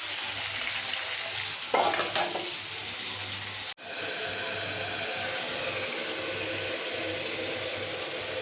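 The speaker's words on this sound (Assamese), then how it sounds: "মাংস ভাজি দিব লাগিব" Chicken meat fries in a hot pan with a steady, close hiss and sizzle, a brief scrape of stirring near the start and one sharp dropout partway through, with no talking.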